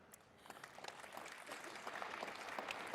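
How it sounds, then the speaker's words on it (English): Applause from an audience at a keynote address, a faint, distant wash of clapping that builds slightly toward the end of the clip, with no speech over it. "hold the applause"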